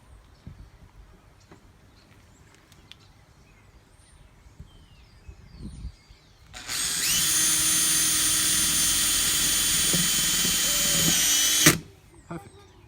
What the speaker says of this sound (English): now get it in the right spot and you do the drill